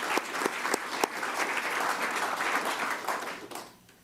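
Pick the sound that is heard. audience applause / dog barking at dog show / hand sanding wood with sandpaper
audience applause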